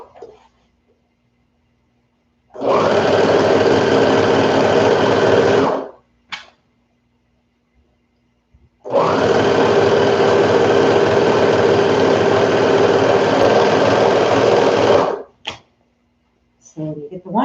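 Sewing machine running in two long steady bursts, stitching the side seam of a toddler peasant dress; each run lasts several seconds with a sharp start and stop, close and loud, with a quiet pause between.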